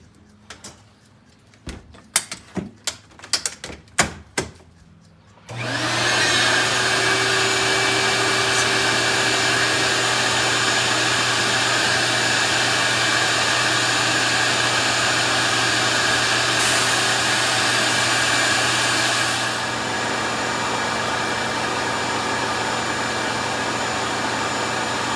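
Blast cabinet running steadily on a Ford Y-block exhaust manifold, a loud continuous hiss and roar that holds for about twenty seconds and then drops slightly, preceded by several sharp knocks and clunks.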